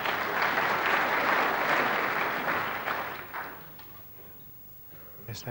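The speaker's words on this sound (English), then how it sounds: "Yes, that was deserved applause." Spectators at the 1992 World Snooker Championship semi-final applaud a pot, a warm burst of clapping that fades out after about three seconds, leaving a quiet arena with faint low murmur.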